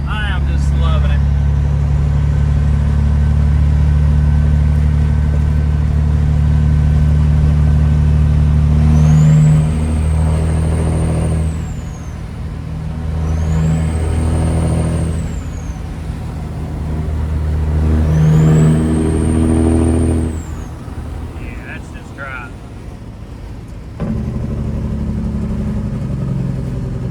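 A classic truck with a newly fitted straight pipe rumbles loudly and steadily at idle, then revs hard three times with brief pauses between, the deep engine roar dominating up close.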